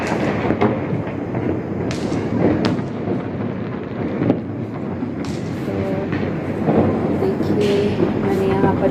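Diwali firecrackers bursting outdoors around a home balcony, sharp thuds and cracks popping repeatedly over a constant loud crackling din, some near and some distant.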